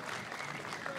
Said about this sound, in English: Put your hands together. Geef some warm applause.